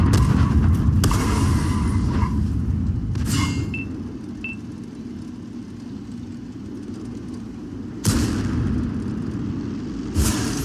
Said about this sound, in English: And you'll see there's enemy artillery.